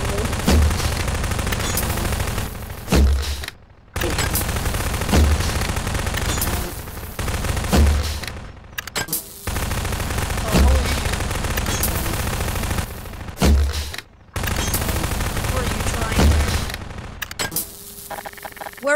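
Video game gunfire in a household-themed horror shooter, with loud, dense bursts of automatic fire and sniper shots repeating almost without break, cut by a few brief silences.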